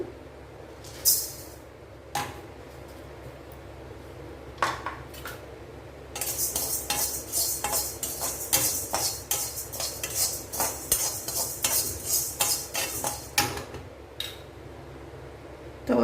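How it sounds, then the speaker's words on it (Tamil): Chana dal and toor dal dry-roasting in an oil-free iron kadai, with a spoon scraping and stirring in rapid rhythmic bursts, sharp metallic clinks against the pan, loud and close, with no talking. "இரும்பு கடாயில் வறுத்துக்கோங்க ஈஸியாக வறுப்படும் எண்ணெய் எதுவும் விட வேண்டாம் வெறும் கடாயில் வறுக்கணும்"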